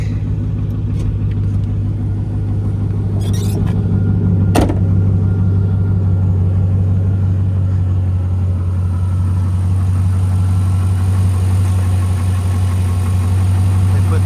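A 2001 Pontiac Firebird Trans Am WS6 with an LS1 V8 idles with a loud, steady, deep rumble, the throaty drone continuous and close, with a couple of brief clicks over it.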